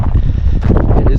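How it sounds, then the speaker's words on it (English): Cold wind roars and buffets the microphone on a mountain descent near Kearsarge North, a loud, steady rush that lasts about a second. "We're right into the wind."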